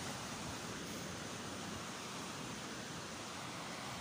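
Small sea waves washing steadily on an autumn day as weather turns, a continuous broadband surf wash with wind-like hiss, even and unbroken throughout, no voices.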